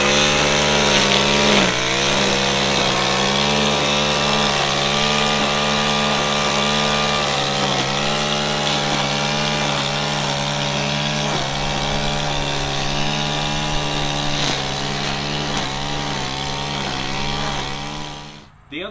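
A Stihl FS91R string trimmer runs steadily at high throttle, its loud, buzzing engine drone holding a constant pitch for nearly the whole stretch before cutting off abruptly at the end.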